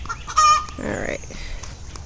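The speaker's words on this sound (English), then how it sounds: "you can hear those hens impatiently waiting for their turn on a nest when I have multiple nests" Several hens cluck and squawk impatiently near a row of nesting boxes in a backyard coop, a loud burst of calls early on followed by steadier clucking close by.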